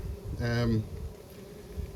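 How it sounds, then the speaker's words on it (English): A bumblebee trapped beneath a nest gives a loud, close buzz for under a second, a steady droning hum that then fades into quiet background. "This little bee trapped under there."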